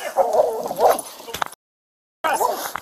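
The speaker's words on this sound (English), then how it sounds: "Watch that dog!" A police dog barks and yips close by during an arrest, several loud sharp barks and whines, then a sudden silent gap before the barking resumes.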